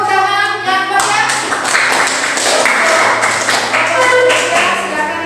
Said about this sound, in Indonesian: kita berikan tepuk tangan yang banyak